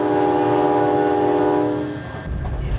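Inside a moving train bound for Vienna, a loud steady rumble with sustained tonal hum fills the car, easing slightly toward the end as the noise becomes rougher.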